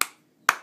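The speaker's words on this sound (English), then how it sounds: "just going to clap, make sure it's not too loud" Two sharp hand claps near a baby newly fitted with hearing aids, close and crisp, separated by about half a second of quiet.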